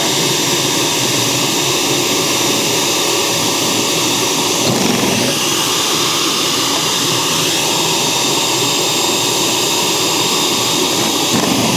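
A Ninja 9-cup food processor motor runs loudly and steadily for the whole stretch, a dense, even whirring roar with no talking over it.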